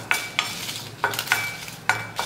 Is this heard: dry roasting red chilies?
yes